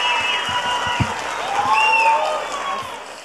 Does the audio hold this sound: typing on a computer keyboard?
no